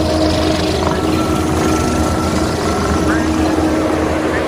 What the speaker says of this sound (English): Here's the KUBOTA SVL97-2 forestry package, 370 hours.